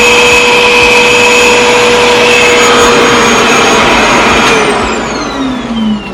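A Revair vacuum hair dryer runs loud and steady, with a constant whooshing motor drone that starts to wind down and drop in pitch near the end.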